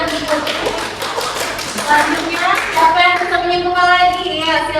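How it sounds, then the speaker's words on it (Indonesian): A classroom of children applauds a student during a lesson, a dense burst of quick hand claps that fills the room, with some children's voices mixed in toward the end. "Tepuk tangan anak-anak untuk Putri."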